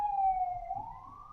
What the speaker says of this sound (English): Sorry about the sirens if you can hear that.